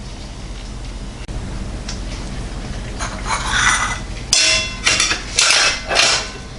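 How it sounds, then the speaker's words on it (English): A knife cuts butter into pats over brown sugar for a pineapple upside-down cake, giving close scraping taps on a pan over a steady background hum, with no talking. "I'm going to cut the butter in dashes across the brown sugar"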